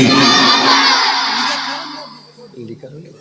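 A large gathering at an open-air Islamic sermon roars back in unison after a takbir call, a loud massed shout that swells at once and then fades over a couple of seconds, leaving a few scattered voices.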